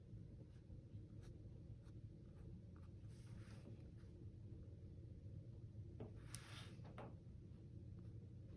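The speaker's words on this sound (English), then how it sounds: "So I'm just going to go over my pencil marks." A pencil traces back over earlier marks on paper during a daffodil nature study, steady scratchy strokes continuing close and quiet throughout.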